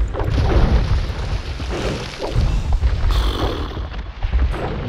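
Heavy bombard cannon booms from the game Age of Empires II roll one after another in a dense, rumbling barrage, loud and continuous like a battle.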